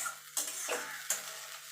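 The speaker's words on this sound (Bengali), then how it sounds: "মশলাটা একটুখানি কষিয়ে নেব ভালো করে" Spice paste frying in a pan for an egg and potato curry, a low hiss punctuated by two scraping strokes of a spatula, quiet and close.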